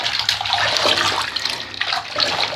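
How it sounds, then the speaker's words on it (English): Bath water with a dissolved bath bomb is stirred and sloshed by hand in a tub, making a continuous rushing, splashing swirl, close up with no talk. "then we're going to mix the water up and see what we got for color"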